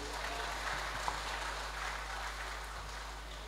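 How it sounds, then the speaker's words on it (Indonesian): Guests at a halal bi halal gathering clap for honored members, a soft, distant patter of applause over a steady low hum from the sound system. "Tepuk tangan untuk beliau-beliau."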